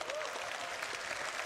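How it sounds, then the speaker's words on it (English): Audience applause at CitizenCon, the Star Citizen fan convention: a steady, somewhat distant patter of many hands clapping, fairly faint and even, with a faint tonal murmur underneath. "can we get a round of applause for Tyler and Leah"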